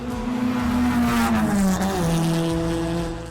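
Race cars lapping the circuit at a 9 Hours of Lemons endurance race, a loud engine drone that swells and drops in pitch as a car roars past close by.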